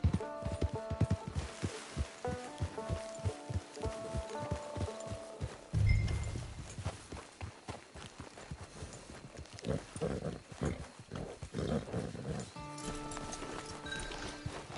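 Rhythmic hoofbeats clip-clop steadily at a trot, moderately close, with a thump partway through and quiet background game ambience.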